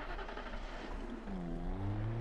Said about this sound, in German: Nehmen wir das geländegängiges Fahrzeug.